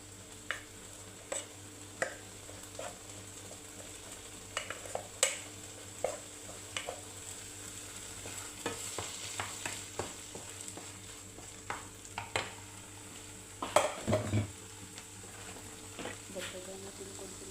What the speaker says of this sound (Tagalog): habang pinapaluto po natin yung ating gulay